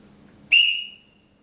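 A single shrill whistle blast rings out sharply after a quiet moment, then fades over about half a second.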